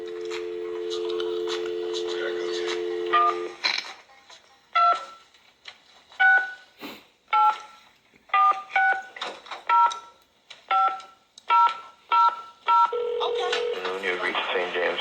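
Touch-tone dialing of a hotel room number: a run of separate DTMF beeps in an irregular rhythm, loud and close. A steady tone comes before them and a short tone follows, with no talk over the digits.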